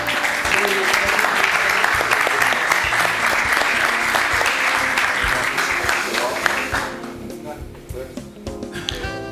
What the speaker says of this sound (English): let's give an applause to the two speakers.